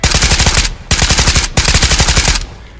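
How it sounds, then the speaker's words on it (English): A fully kitted-out automatic gun fires in the video game Ghosts of Tabor, letting off three loud, rapid bursts separated by brief pauses. "So this is what a fully kitted out gun would look like and sound like."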